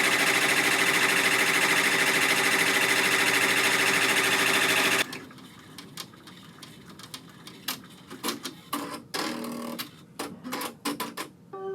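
Embroidery machine stitching a key fob design: a fast, loud, continuous needle rattle for about five seconds stops abruptly, followed by scattered clicks and handling noises up close.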